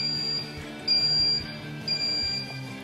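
Hop addition timer on a home brewing system beeping in short, steady, high electronic tones repeating about once a second, close and clear over a low background hum.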